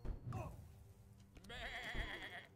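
Sheep bleat in a video game, a wavering bleat near the start followed by a louder, brighter bleat in the second half, with a couple of soft thumps between.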